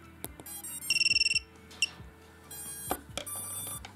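A Happymodel Mobula7 brushless micro whoop drone gives a fast run of high electronic beeps right after its battery is plugged in. Scattered clicks and a few more short tones follow at close range.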